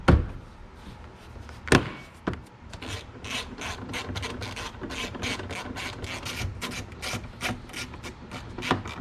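A 2014 Nissan Altima's plastic interior trim piece is pushed back into place, giving a sustained scraping, rubbing rasp with a few sharper knocks near the start and end, close and fairly loud, with no talking.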